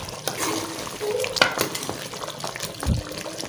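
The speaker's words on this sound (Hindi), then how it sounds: "अभी हम कर लेते हैं इसको डिश आउट।" A ladle scrapes and slops mutton korma, a dhaba-style goat meat curry, out of a cooking pot, with soft wet stirring noises, a few clinks and a low thud, close up and fairly quiet.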